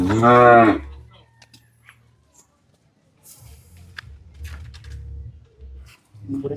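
A Friesian heifer on a dairy farm moos loudly once, a long harmonic bellow, followed by quieter low rumbling and faint background clatter.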